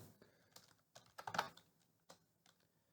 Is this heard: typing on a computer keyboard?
yes